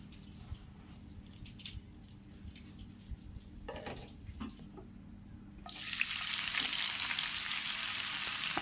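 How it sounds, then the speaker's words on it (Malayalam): Sliced onions fry in hot oil for a beef dum biryani masala: quiet kitchen clatter first, then a loud, steady sizzle and crackle bursts in after the onions hit the pan and runs on without voices. "അതിനുശേഷം ബാക്കി സവാള ഇട്ട് അതുപോലെ തന്നെ നമുക്ക് വറുത്തെടുക്കണം"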